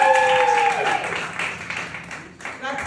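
A comedy club audience applauds comedian Michael, a broad clapping wash under a host's voice that holds for about three seconds without dying away.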